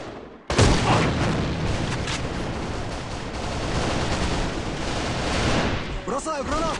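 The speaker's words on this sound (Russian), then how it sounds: "Впереди! Граната!" Grenade explosion in a first-person shooter game: a sudden loud blast about half a second in, followed by sustained roaring debris and gunfire-like crackle for several seconds, with a voice calling out near the end.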